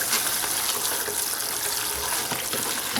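Scalding hot tap water runs steadily into a greasy pot with dish soap while the pot is rinsed, a continuous hissing gush heard close and alone.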